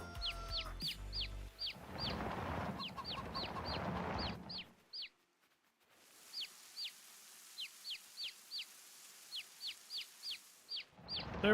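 Chickens in the farming video game Farming Simulator 22 cluck in short, evenly spaced bursts, close and clear, with a stretch of denser farmyard noise early on and a brief quiet gap midway.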